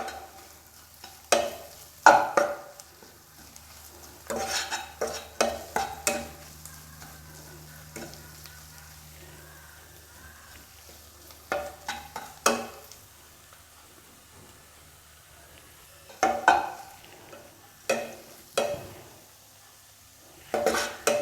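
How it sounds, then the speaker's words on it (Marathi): Masala sautéed in oil for ridge gourd chutney, with intermittent spatula scrapes and clinks against the pan over a soft, low sizzle, spaced stirring strokes with quiet gaps between them, close up. "हे सगळं आपल्याला तेल सुटेपर्यंत परतून घ्यायचं आहे।"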